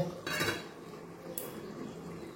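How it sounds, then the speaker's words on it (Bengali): A metal lid comes off a pot of simmering ridge gourd curry with a quick clatter and ringing clink, followed by a second brief metallic tap, close and fairly quiet. "এবার ঢাকনাটা খুলে দিলাম"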